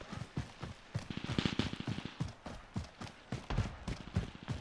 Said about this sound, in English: I hear gunfire off in the distance, right up here at the ruins.